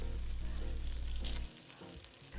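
Neckbones sear in a hot pot, a continuous close sizzle and crackle of frying with a low hum under it, easing slightly partway through.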